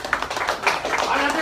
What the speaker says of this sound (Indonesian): Tepuk tangan sekali lagi untuk Mas Denny.